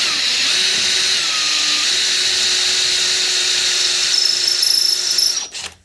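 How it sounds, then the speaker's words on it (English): A power drill with a 10 mm bit cutting through metal for an engine stand, giving a loud, steady high-pitched whine that runs continuously for over five seconds before winding down abruptly. "time to do some more drilling"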